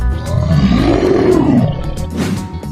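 A loud, close dragon roar from a 3D animal slide game swells and falls over about two seconds, deep and rumbling, with a brief rougher burst trailing after it.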